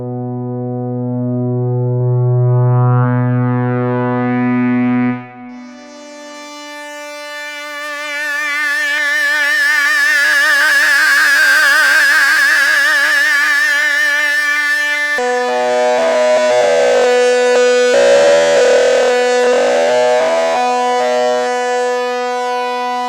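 A Moog Voyager synthesizer plays loud, sustained tones alone: a low buzzy note, then brighter drones with slow sweeping, siren-like pitch and filter movement.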